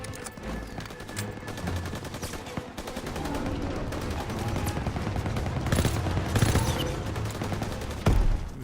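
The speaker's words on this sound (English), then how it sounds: "Oh, I can use this for a machine gun." Machine gun fire from an MG-42 in Call of Duty WW2, a dense, rapid rattle of shots that builds slightly louder toward the end, with battlefield noise underneath.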